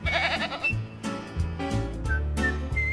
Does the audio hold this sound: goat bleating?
yes